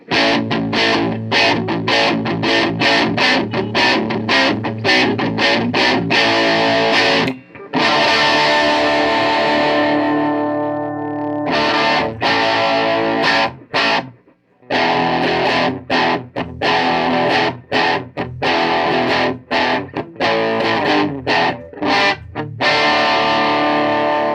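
Distorted electric guitar riffing steadily for a long stretch through a hard-clipping diode distortion circuit, with a few brief pauses and sustained crunchy chords in between.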